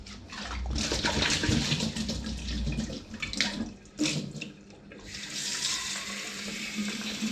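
Tap water runs steadily and close by as it rinses an Aarke Carbonator II bottle, splashing and changing tone as the bottle moves under the stream.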